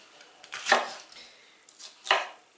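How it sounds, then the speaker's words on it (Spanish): A knife chops green bell pepper on a board in two distinct, crisp strokes about a second and a half apart, close and fairly quiet, with no voices. "Aquí tenemos el pimiento verde bien lavadito, vamos a partir un trozo"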